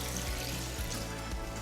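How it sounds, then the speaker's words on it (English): Coconut water poured into a Vitamix blender jar over mango and ice: a steady, close, continuous gush of liquid with slight gurgling throughout. "We're going to put in 1 cup of coconut water."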